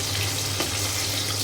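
Shing fish frying in hot oil, a steady close sizzle with a hiss that stays even throughout, and one brief soft clatter partway through.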